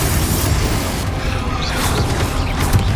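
The Confringo explosion spell in Hogwarts Legacy erupts during a chaotic final battle, giving a sustained loud rumbling blast layered with crashing debris and brief sharp bursts over continuous heavy low-end noise.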